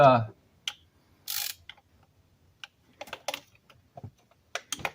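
A ratchet works on the intake bolts of a 2008 Dodge Charger, producing sparse, close metallic clicks and short ratcheting bursts separated by quiet gaps.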